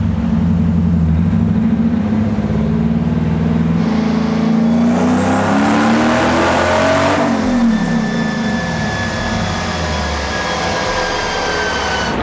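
A supercharged V8 drift truck engine on a dyno making a part-throttle pull to about 5,000 RPM: a loud, sustained engine drone rises steadily in pitch, peaks near the middle, then drops back to a steady roar.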